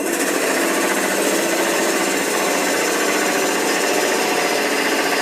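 A wood lathe turns while the tenon is cut away, giving a dense, harsh rasping and chattering hiss that runs steadily and loud for the whole stretch with no talking.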